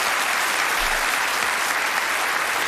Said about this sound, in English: Easy clap, boys.